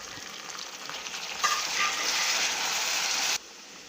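Browned onions and freshly added tomato paste frying in a pan for chana daal, a soft sizzle that swells abruptly into a loud, bright hiss for about two seconds, then cuts back down, heard close with no talking.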